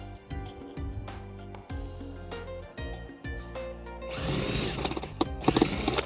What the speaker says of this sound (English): these screws out of this speaker here